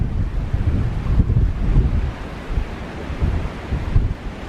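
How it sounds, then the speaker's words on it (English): Strong wind buffets an outdoor microphone in steady, low roaring gusts that swell and ease, with a surf-like wash behind and no voices. "I think the wind is starting to die down a bit."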